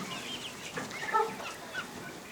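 Quiet clucking from egg-laying hens nearby, a few soft irregular calls over low background noise.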